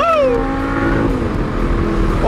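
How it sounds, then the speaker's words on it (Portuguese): An Audi R8 engine revs up at night, its rising note sweeping upward and then settling into a loud, close, sustained rumble. "Olha o barulho desse carro."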